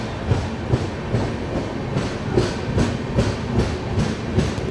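The Rani Kamlapati Superfast train rolls at a station, giving rhythmic clickety-clack wheel beats over a low rumble, steady and fairly close with no speech.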